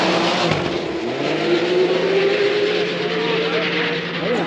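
A Ski-Doo turbo snowmobile races a stock run at a snow drag event on a frozen lake in Inlet, New York, its engine roaring loud and rising steadily in pitch under an announcer's talk.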